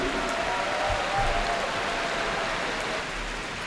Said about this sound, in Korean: 직소 선수께 큰 박수 부탁드리겠습니다.